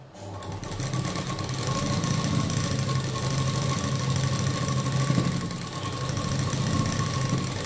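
A sewing machine stitches along the edge of a prince cut blouse, a continuous fast mechanical whirring and knocking that runs steadily throughout, close and loud, with no talking.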